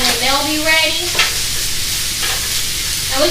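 Asparagus sizzles steadily on a hot indoor grill, with a few scraping and turning sounds and a faint voice briefly at the start.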